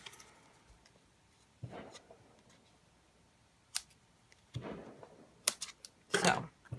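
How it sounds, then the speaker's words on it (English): Close, quiet snips of scissors trimming the edges of paper for card making, coming as a few separate short cuts and clusters of crisp clicks spaced unevenly across a hushed tabletop setting. "I just want to trim the edges of this off just a little bit."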